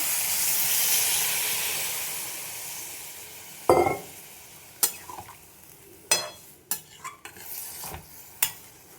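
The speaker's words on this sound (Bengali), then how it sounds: "এবার দিয়ে দেবো জল।" Water is poured into a pan of mixed vegetables frying for shukto, giving a loud, steamy sizzle and hiss for several seconds, followed by scattered sharp clinks of a utensil stirring the pan.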